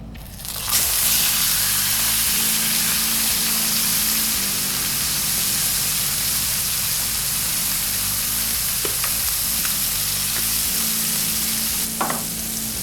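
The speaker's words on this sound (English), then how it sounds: "get some fresh oil in there, and throw the meat in" Marinated flank steak sears in hot oil in a cast iron skillet, giving a loud, steady, close sizzle that starts abruptly and hisses on without a break, with a few faint clinks near the end.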